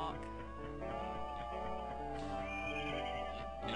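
A horse in The Legend of Zelda: Master Quest lets out a clear, drawn-out whinny with wavering harmonic tones, faint and game-like over a low steady background hum.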